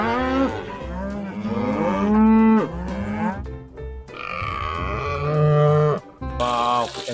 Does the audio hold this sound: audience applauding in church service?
no